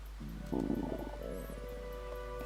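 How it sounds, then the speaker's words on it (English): A cartoon stomach growls in a low, gurgling rumble of about two seconds, swelling loud at first and then trailing off into fainter bubbling, with no speech. "Stomach growling."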